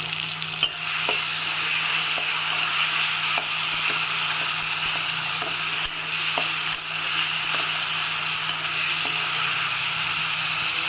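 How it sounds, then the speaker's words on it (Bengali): Kashmiri chili sizzling and frying in hot oil in a pan, a steady loud crackle throughout with occasional stirring scrapes and clicks, no talk. "তো এই তেলে একটু কাশ্মীরি লঙ্কা দিয়ে দিলাম"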